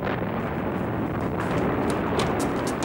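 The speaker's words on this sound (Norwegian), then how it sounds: "Eksplosjon. Slik i nærheten." A staged explosion rumbles as a sound effect in a Norwegian radio drama, a dense, continuous roar of low thunder and debris noise sustained for about three seconds.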